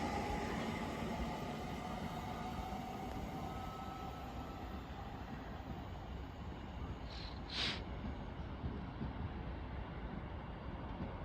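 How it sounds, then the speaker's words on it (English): A London Overground service pulls away from Watford Junction toward London Euston, a steady distant rumble of rail traffic that fills the scene, with a brief high squeal partway through. "departing now in the distance is the 1545 London Overground service to London Euston"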